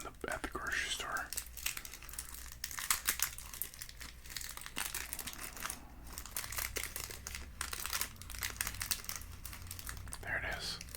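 A sweet wrapped in paper inside tin foil is slowly unwrapped up close, giving soft irregular crinkles and crackles of foil and paper over quiet whispered talk.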